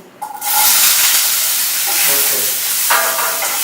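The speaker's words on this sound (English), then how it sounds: "So we are going to be stir frying the potato now." Potatoes sizzle and hiss steadily while stir frying in a hot pan, with brief scraping stirs and a louder burst of sizzle near the end.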